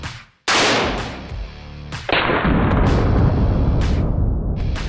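A rifle fired with brand A ammunition in a blowback demonstration: one sharp, loud shot, then a second heavy report that rings on with a long roaring tail, no talking.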